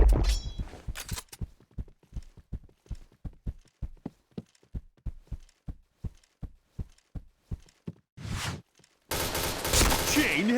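Video-game gunfire during headshot practice: a rapid series of sharp, evenly spaced shots, loud and close, followed by a short gap and then a dense burst of noisy game effects.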